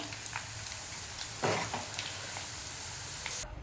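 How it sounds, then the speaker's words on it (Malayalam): Prawns fry in hot oil for a Malayalam-style prawn pickle, giving a steady close sizzle with light crackles and a brief louder burst midway, without any talk. "ഇനി ബാക്കിയുള്ള ചെമ്മീനും നമുക്ക് ഇതുപോലെ തന്നെ ഫ്രൈ ചെയ്തെടുക്കാം."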